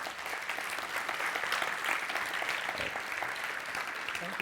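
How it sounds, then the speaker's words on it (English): A conference audience applauds after a talk, with dense, sustained clapping from a crowd filling the room at steady volume throughout. "Please give him another round of applause."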